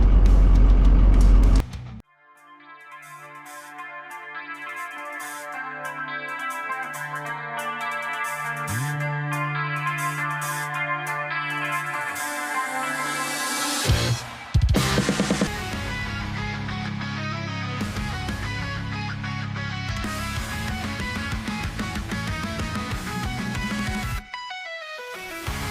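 A 1967 Dodge Coronet 440 pulling back onto the road from a gas station, its engine droning steadily with shifting tones and a sharp change midway, heard from close by without speech.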